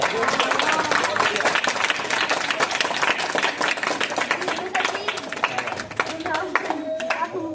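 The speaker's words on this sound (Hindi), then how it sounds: "अभी तो तालियां बजाने लग गए।" Children clapping in a gurukul classroom as exam results are announced, loud sharp claps in an uneven rhythm that thin out toward the end, with a voice speaking over them.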